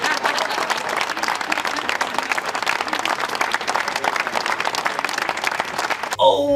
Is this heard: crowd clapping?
yes